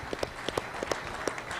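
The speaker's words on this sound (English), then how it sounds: "If we can give him a round of applause," Audience at a Farm Bill listening session in Minnesota gives a short round of applause, with sparse, distinct claps spread through a brief moment in a hall.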